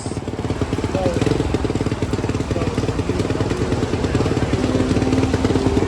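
An XPRO 125cc pit bike engine running slightly boggy, a loud close continuous putter with rough rhythmic firing and a few rev swells, with faint talk under it.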